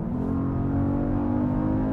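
A steady, deep engine drone with a buzzy synthetic growl from artificial sound enhancement in a 2021 Genesis GV80, continuous and loud, heard from inside the car in eco mode without talk.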